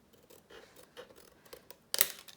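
Scissors snip through cardboard for a pizza box, cutting a small strip in a few quiet close cuts ending in one sharper, louder snip.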